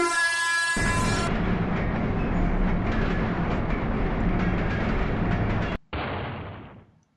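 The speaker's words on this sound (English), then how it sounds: "Urasuki gets hit by a train and fucking dies." A train horn blares in a retro-style video game, then a heavy rumbling crash of the train striking a character sounds loud and sustained before cutting out abruptly and trailing off.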